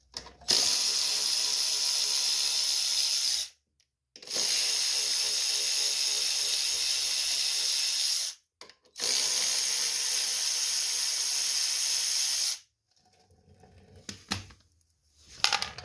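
Bolts on a Craftsman push mower carburetor being loosened with a ratchet and 5/16 socket, clicking in three long, steady ratcheting bursts separated by short pauses, close and alone, with faint handling noises at the end.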